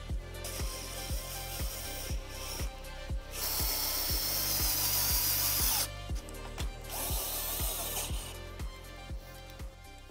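A power tool whirs in repeated short bursts, with one longer sustained run mid-way, while tightening a folding windshield bracket on a Polaris RZR XP; regular clicking ticks run beneath throughout, with no talk.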